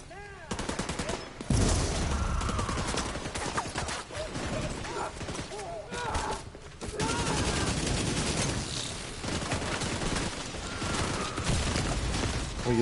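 Rapid bursts of gunfire ring out in The Division 2 video game on PS5, with sharp repeated shots and fusillades over several seconds, mixed with mechanical game sounds.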